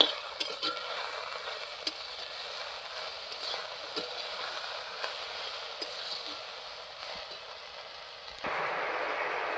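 Jackfruit seeds fried with salt and turmeric being stirred in a pan: a steady soft sizzle with scattered light scrapes and taps of the utensil, fairly quiet and close, with no voices.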